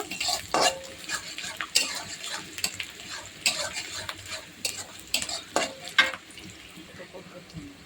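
Fried fish tossed with spices in a pan, with repeated spatula scrapes and metallic clinks in an irregular rhythm over a soft sizzle, heard up close.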